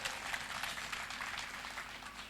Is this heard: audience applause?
yes